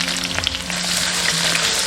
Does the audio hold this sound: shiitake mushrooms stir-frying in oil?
yes